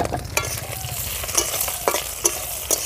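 Small mourala fish hit hot oil tempered with whole radhuni seeds, giving a loud, steady sizzle close by, punctuated by several sharp spatula scrapes and taps against the pan.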